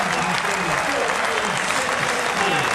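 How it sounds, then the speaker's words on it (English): Cricket crowd at a Test match in Cape Town applauds and cheers as Hashim Amla is dismissed, a dense, sustained wash of clapping filling the ground with a commentator talking over it. "the crowd is raising as one to see the end of Hashim Amla"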